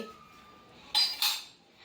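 Two quick metallic clinks of dishes or cutlery knocking together while being washed, close by, after a moment of near silence.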